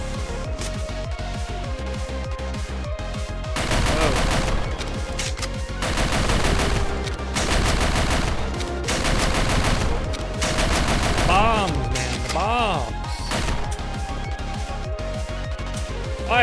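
Video game gunfire from the shooter Snezhinka: Sentinel Girls 2, loud repeated automatic bursts in dense rapid volleys over a continuous backdrop of game music and effects.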